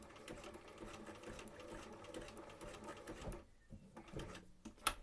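Domestic sewing machine running a zigzag stitch on Victorian skirt fabric, a fast steady mechanical whir and needle chatter that pauses briefly near the end, followed by a sharp click.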